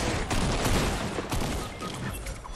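Rapid burst of gunfire from a new weapon in Fortnite, dense and continuous through the whole moment, loud with rattling volleys and no talk over it.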